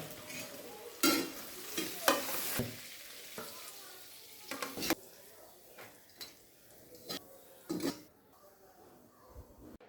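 Prawn heads fry in a pan, giving a low sizzle under repeated loud stirring scrapes and clinks of a spoon against the pan, with some quiet speech at times.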